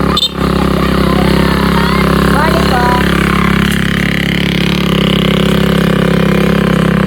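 Kulong-kulong motorcycle tricycle climbing a steep road, its engine droning loudly and steadily under strain, close by, while a person speaks briefly over it.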